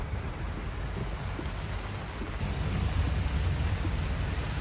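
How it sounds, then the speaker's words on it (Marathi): Heavy monsoon rain at Marine Drive in Mumbai makes a steady, dense roar with a low wind-like rumble underneath, and it swells slightly louder in the second half. "इथे जोरदार पाऊस जे आहे ते सुरू झाला आहे"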